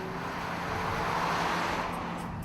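An Audi A4 surging forward in sport mode after a sharp throttle stab, a rising engine and road roar that swells and then eases over a couple of seconds.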